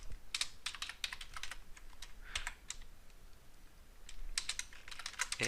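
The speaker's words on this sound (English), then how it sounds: "I'm going to go ahead and type" Someone types code on a computer keyboard in steady, quick bursts of key clicks with short pauses, close and fairly quiet with no voices.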